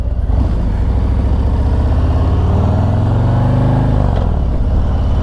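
A motorcycle rolls and dips at low speed, its engine a steady, loud mid-range drone with a slight rise and fall in pitch, close by and without talk.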